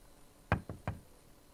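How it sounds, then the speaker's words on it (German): Three hollow knocks on a door in The Sims 4, a heavier first rap followed by two quicker ones in a short, even burst, close and clear against a quiet background with no talk. "An die Tür klopfen, mal gucken, ob einer aufmacht."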